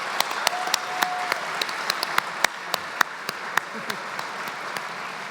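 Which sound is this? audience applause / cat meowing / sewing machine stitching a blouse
audience applause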